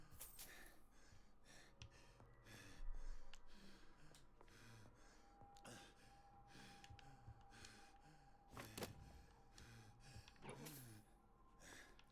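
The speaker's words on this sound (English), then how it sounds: "You gotta stop breathing so heavily." A character in the video game Vampyr breathes heavily and raggedly, with repeated gasps and snorting breaths close up and faint throughout, over a low ambient background.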